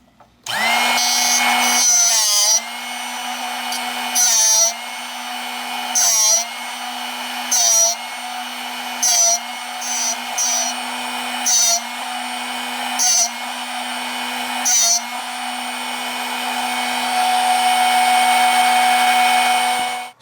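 A Drill Doctor sharpener grinding a drill bit, a steady high motor whine overlaid by about ten repeated bursts of harsh grinding as the bit is rotated against the wheel, close with no talking.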